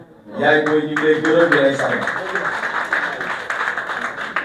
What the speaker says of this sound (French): je m'en vais vous demander d'applaudir une personne avant de parler, c'est sa maman